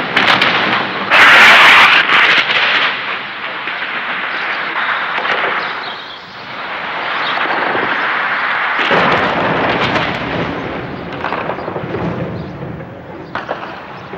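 Heavy artillery bombardment explosions over Sarajevo, 1995, boom and crackle in a continuous barrage, with deep rumbling impacts and sharp bursts, some near and loud, others echoing farther off.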